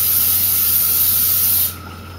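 Pam cooking spray hisses in one steady, close burst into a small saucepan on a stove set to medium heat, then cuts off abruptly near the end.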